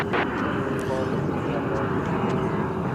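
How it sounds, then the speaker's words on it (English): Iberia airliner on approach to DFW Airport, a steady jet roar holding loud throughout as it arrives, with a voice talking over it. "we do have Iberia flight 863 coming in over here on the west side"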